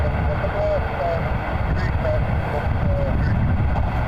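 Embraer 175 airliner on a Jazz flight from Newark, a steady roaring jet engine drone in freezing cold weather at the airport, continuous and fairly loud throughout.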